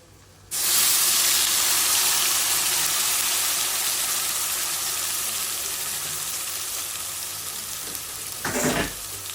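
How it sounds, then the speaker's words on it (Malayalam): A loud, steady sizzle erupts as ground coconut paste is poured into a hot pan with dried red chilies, settling into continuous frying hiss with a brief clatter near the end. "ഇനി അതിലേക്ക് നമ്മൾ ഒരു 4 ഉണക്കമുളക് പൊട്ടിച്ചിടാം. സെറ്റ് ആയതിനു ശേഷം നമ്മൾ അതിലേക്ക് നമ്മൾ അരച്ചു വെച്ച തേങ്ങ ഒഴിക്കുകയാണ്"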